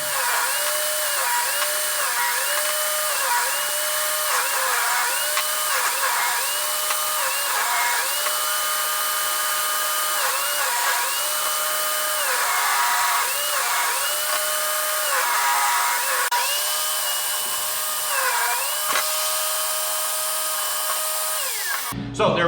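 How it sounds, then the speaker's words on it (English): A power saw trims the edges off wooden pieces for a fireside lounge chair, a loud steady whine with repeated rising and falling pitch swells as each cut is made, running continuously before cutting off abruptly at the end. "So we'll set that up on the saw,"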